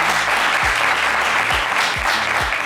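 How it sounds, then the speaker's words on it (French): A studio audience at a French television game show claps loudly and steadily, a dense continuous applause with a few low thumps underneath. "Ça s'applaudit bien fort."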